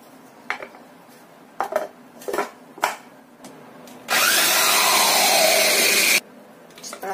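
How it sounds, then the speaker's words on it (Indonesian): A kitchen blender whirs through sugar and coconut milk in one loud, steady two-second burst, preceded by a few sharp clinks of utensils and containers being handled. "Kemudian kita blender sampai halus."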